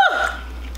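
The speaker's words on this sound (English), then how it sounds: "It's bad when you get hiccups." A single short, sharp hiccup comes from a person midway through eating 2x spicy noodles in a challenge. The gulping catch fades quickly into near silence.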